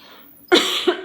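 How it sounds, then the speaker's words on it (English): A person coughs indoors, two or three close, sharp coughs in quick succession after a brief quiet moment. "I might have to start over tomorrow if I can't stop coughing."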